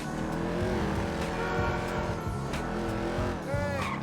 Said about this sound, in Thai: ขับรถกันเลย